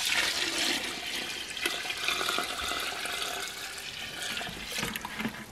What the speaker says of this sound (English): It's looking like I need to fill up the water just a little bit in this bucket.